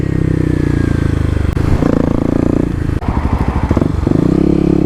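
A Kawasaki KLX250 dual sport motorcycle engine drones steadily at close range while riding on a road, with rattling clatter and a few shifts in pitch as the throttle changes.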